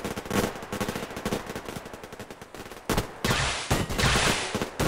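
Rapid automatic fire from an AK rifle in the Survarium shooter game, a dense stream of loud shots in bursts, broken by a short pause before heavier sustained firing resumes.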